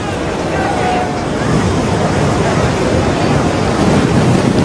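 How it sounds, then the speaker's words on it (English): Loud wind buffets the microphone at an outdoor cricket Test match, a continuous rumbling roar of gusting air that swamps everything else for the whole few seconds. "Just another gust of wind."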